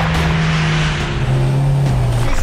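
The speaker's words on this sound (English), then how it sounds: "He's really moving down the track. He's accelerating like a bullet." A Volvo Iron Knight truck rated at 2400 hp accelerates hard down a track during a world speed record attempt, its engine a loud, close, rising roar that shifts pitch midway.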